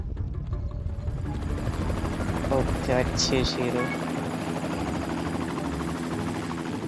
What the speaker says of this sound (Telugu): ఓకే, హెలికాప్టర్ అయితే వచ్చింది.